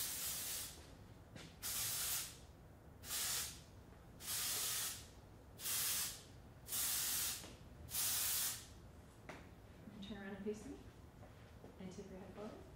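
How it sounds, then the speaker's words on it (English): Texturizer spray with dry shampoo hisses onto hair in a salon, six or seven short, even bursts in steady rhythm, close and clear, before a voice talks quietly afterward. "I'm gonna go up and underneath with the texturizer spray"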